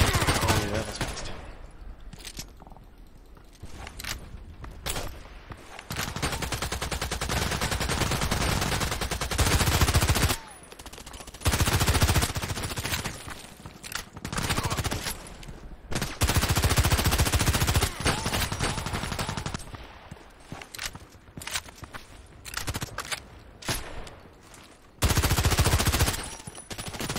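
Silenced FN 5-7 pistol fire in a shooter game, with repeated bursts of rapid shots coming in clusters across a busy, dense mix of gunfire throughout.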